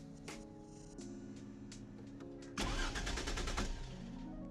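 A supercar's engine is cranked by the starter but fails to catch, a steady mechanical drone with a louder burst of churning, sputtering noise midway, heard alone with no talk.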